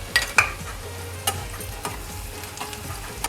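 Chopped onion sizzles softly in hot oil in a pan for a Koli dried-shrimp fry, with scraping stirs and a few sharp clinks of the utensil against the pan.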